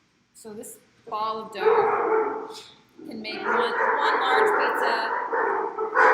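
Several dogs barking indoors in a home kitchen, a burst of yips, then a longer run of loud overlapping barks and whimpers, sounding over and under someone talking.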